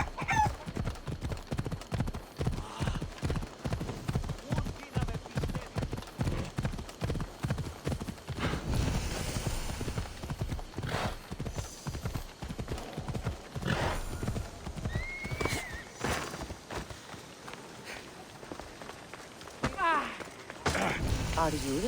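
Steady clip-clop of horse hooves at a trot while riding in Assassin's Creed Odyssey, a close, even rhythm that runs for a long stretch, with a brief whinny and game voices speaking over it later.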